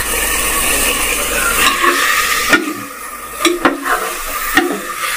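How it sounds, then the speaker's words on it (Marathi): Marinated chicken for a bamboo chicken curry sizzles as it goes into a pressure cooker. A loud steady hiss of frying gives way to several sharp clacks and scrapes of stirring against the metal pot. "आता हे चिकन आपल्याला कुकरमध्ये टाकायचं आहे."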